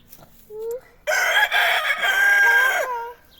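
A rooster crows loudly and close by, a long harmonic call, with a few softer chicken clucks and squawks before and after.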